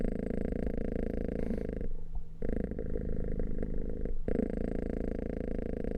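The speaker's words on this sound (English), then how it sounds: "That's Rover, the big cat" A big cat purrs continuously up close, a steady rumbling rhythm of in-and-out breaths with a couple of brief pauses, loud and alone.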